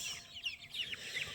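Free-range purebred chickens cluck in a short, busy burst of repeated calls close by, with no talking over them.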